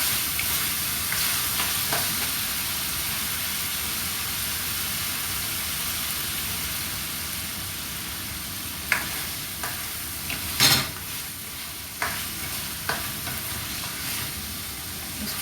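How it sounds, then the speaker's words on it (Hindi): Mutton masala with whole small onions fries and is stirred in a pan, a steady close sizzle with occasional spoon scrapes and clinks against the pot, no talking. "अब बस इसको मैं और भूनूंगी थोड़ा सा"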